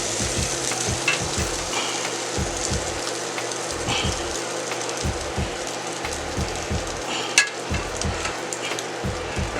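Stuffed French toast frying on a griddle, a steady broadband sizzle and crackle with occasional sharper pops, close and continuous with no talking.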